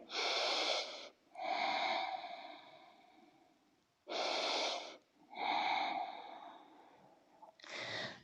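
Slow, deep breaths during a yoga stretch: two long inhale-exhale cycles, each a soft airy rush in and a longer sighing release out, close and quiet with no talking.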